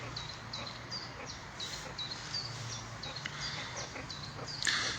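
Meerkats give a steady stream of small high chirps and squeaky calls, repeated at an irregular rhythm over a constant low background hum, with no talking.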